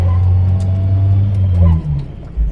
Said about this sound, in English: There's quite a bit of road noise